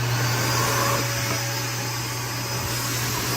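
A Shernbao high-velocity dog grooming dryer blower roars steadily and loudly with a broad airy hiss and a low hum, running continuously without pause.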